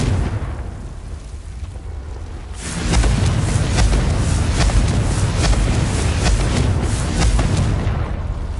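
A Confringo fire-blast spell explodes in Hogwarts Legacy, bursting in suddenly after a quiet stretch and rolling on as a loud, sustained roaring blast that fills the rest of the moment.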